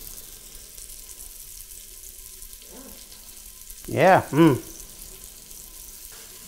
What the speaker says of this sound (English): I got a little sizzling action